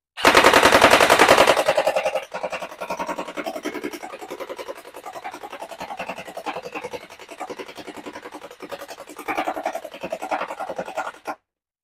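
A toy-grade airsoft gun fires at a piece of cardboard, starting with a loud burst and then settling into long runs of rapid, rattling full-auto shots at close range.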